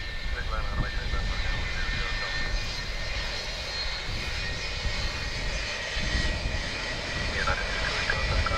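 A jet airliner on approach to runway 28 left at Dublin Airport gives a steady broad engine roar throughout, with radio voices faintly over it.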